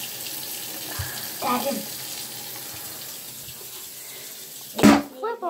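Water runs from a tap into a sink as a steady, moderate wash, with a few short clunks and a brief voice near the end.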